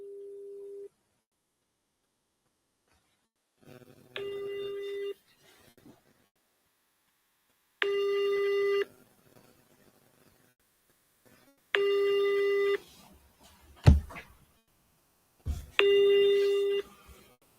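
Telephone tones sound during a call, with separate steady beeps repeating at intervals and separated by silence, plus a short thud, loud and close.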